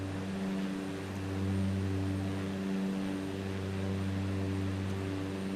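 A Cessna engine drones steadily in flight in Microsoft Flight Simulator 2024, a constant, even, tonal hum of moderate loudness that never changes, with no voices over it.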